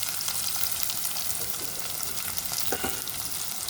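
Chopped onions and curry leaves fry in hot oil in a pan for a Kadapa-style ivy gourd and fresh coconut fry, making a loud, continuous close sizzle with faint stirring scrapes.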